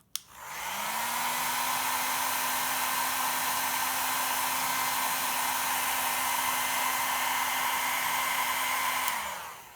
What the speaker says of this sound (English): I'm gonna use the hairdryer to warm the area until I feel a little zap